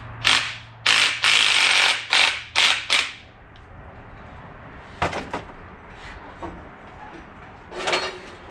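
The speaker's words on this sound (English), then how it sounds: "A super fancy ripping brushless impact." A brushless impact wrench hammers on a KTM 950 motorcycle fork cap in loud ratcheting bursts, about six quick rattling runs in the first three seconds, followed by softer clicks and clunks of parts being handled.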